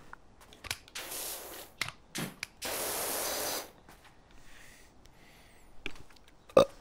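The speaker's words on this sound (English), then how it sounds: "Burped." A single brief burp pops out near the end, preceded by several hissing spray bursts from cleaning a wall, with no talking.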